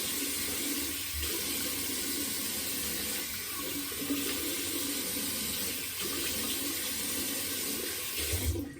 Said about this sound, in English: We should do a rinse like Nate Bauermeister.